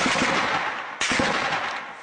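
Gunfire in a war-torn Syrian city district, two loud close bursts of shots about a second apart, each decaying into echo with no voices.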